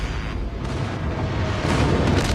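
Bombs go off in a mobile video game played on an OPPO A94 smartphone, producing dense, continuous booming rumble with soft bursts blending together at steady loudness.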